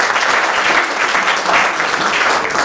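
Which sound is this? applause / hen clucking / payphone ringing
applause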